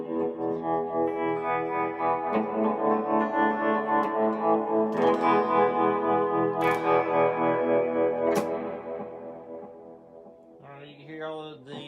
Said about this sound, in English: Sounds like all my modulation's working.